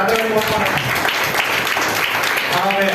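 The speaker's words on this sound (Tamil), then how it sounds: "ஜோரம் கரங்களை தட்டுங்க, ஜோரம் தட்டுங்க, ஜோரம் தட்டுங்க" A church congregation claps hands loudly and continuously throughout, dense and even, while a voice speaks and sings over it.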